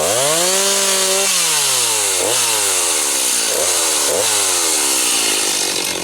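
A chainsaw runs loud and close at a fast idle before an old backyard palm is felled, its engine droning steadily and dipping in pitch a few times as the throttle varies.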